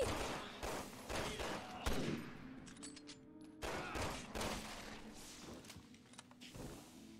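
Sniper rifle and pistol fire in Resident Evil 6, several sharp shots spaced across the stretch with ringing decays and quieter game sounds between them.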